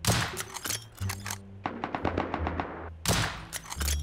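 Gunfire in the online survival game Rust, close bursts of rapid automatic shots in quick rhythmic strings with heavier thumps between, loud and sharp, with a lull of evenly spaced single shots in the middle.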